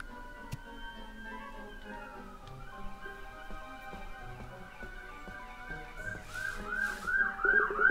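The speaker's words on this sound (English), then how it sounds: "Sorry if you guys can hear that ambulance." An ambulance siren passes outside, its wailing tones faint at first and growing louder toward the end, layered over game music and ambient background sound.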